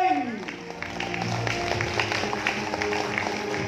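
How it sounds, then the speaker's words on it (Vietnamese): Audience applause for the newly crowned Miss Vietnamese World at a beauty pageant, steady dense clapping filling the hall over a bed of music, with a voice speaking over it. "Xin một tràng pháo tay để chúc mừng cho tân Hoa hậu Người Việt Thế Giới"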